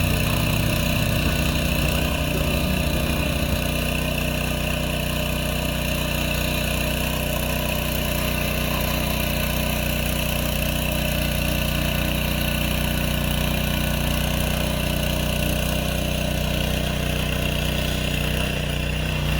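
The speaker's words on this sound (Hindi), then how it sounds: "और पीछे से इसमें ट्रैक्टर चलाया जाता है।" A tractor ploughs a hillside field in the mountains, its engine running as a steady, loud, droning rumble throughout, close by and unbroken, with no voices.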